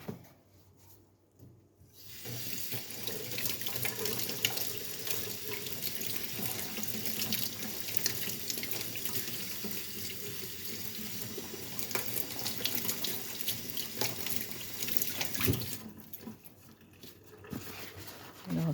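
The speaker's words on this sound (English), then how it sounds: "And now a last rinse." Gold-plated jewellery rinsed under a running tap, a steady broadband rush of water splashing into a sink for most of the stretch, starting after a short quiet moment and cutting off near the end before resuming briefly.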